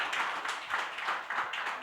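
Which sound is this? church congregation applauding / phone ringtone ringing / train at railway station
church congregation applauding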